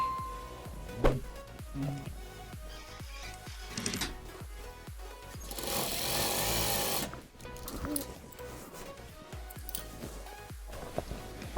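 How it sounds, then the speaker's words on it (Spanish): A straight-stitch sewing machine runs along a fabric edge, its rapid mechanical whir starting and stopping with a louder sustained run in the middle, amid clicks and handling noises of the fabric. "lo aseguramos con la máquina recta y lo realizamos una pequeña costura por el borde"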